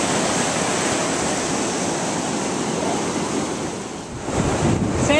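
Steady, loud wash of ocean surf rolling over a beach, broadband and continuous with wind buffeting the microphone; a fresh wave surges in near the end, swelling louder as foamy water rushes and bubbles across the sand.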